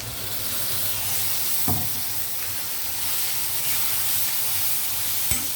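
Steady sizzle and hiss of hot oil in a pan after water used to rinse a mixer jar is poured in, with a couple of brief clinks, continuous and close.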